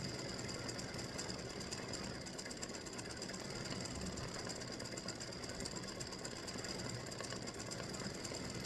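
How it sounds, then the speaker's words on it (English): An embroidery machine stitches a freestanding lace pumpkin with matching thread, giving a steady, continuous mechanical whir and rapid needle chatter that holds at an even level throughout. "So this will stitch the pumpkin here, and it'll come over and stitch the other pumpkin for the other ring over here"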